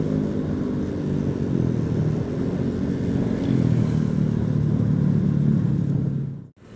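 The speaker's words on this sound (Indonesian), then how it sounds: "Knalpotnya itu loh bisik banget, gak demen gua." A Honda Vario motorcycle with a loud aftermarket exhaust cruising along a Pantura-route highway in Indonesia, a steady low engine drone under wind rush that holds throughout before cutting off abruptly at the end.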